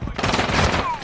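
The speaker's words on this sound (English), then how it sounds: "I'm taking fire." Rapid video game gunfire crackles in a dense, continuous burst, loud and close, with a voice speaking underneath.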